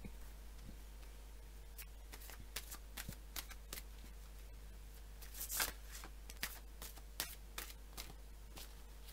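Playing cards shuffled and laid down on a table during a group card reading, with a string of crisp riffles and soft slaps spread across the clip, fairly close and fairly quiet over a steady low hum.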